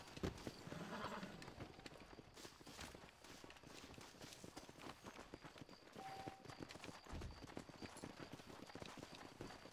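Horses in the Red Dead Redemption video game clopping along at a trot in a steady hoof rhythm, with a neigh or whinny near the start and game ambience underneath.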